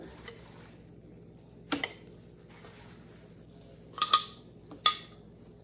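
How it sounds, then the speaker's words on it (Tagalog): Blended Asian pears are stirred into beef bulgogi in a bowl with soft mixing sounds, broken by a few sharp clinks and clatters of a utensil against the dish. "ihahalo ko na ngayon yung aking blender kanina na Asian pears"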